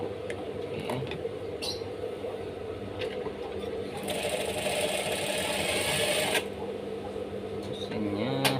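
Sewing machine stitching fabric after its needle was tilted to fix puckered seams, a steady close mechanical whir running under low room noise, loudest through the middle stretch.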